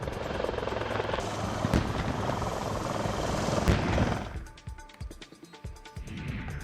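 Rotor noise of a Dhruv military helicopter fills the first four seconds as a loud, steady wash with a couple of sharp thumps, then cuts away to quieter, scattered clatter.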